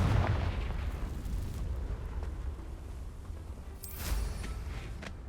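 A Confringo blasting spell explosion in Hogwarts Legacy, a deep rumbling boom at the start that fades into a low roar, followed by a sharper crack and burst near the end.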